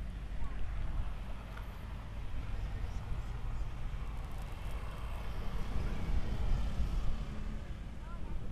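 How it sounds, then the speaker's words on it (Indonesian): Steady wind rushes and buffets against the microphone beside a lake during a motorbike ride, a loud, continuous low roar, while a person talks over it. "Mantap ini anginnya guys"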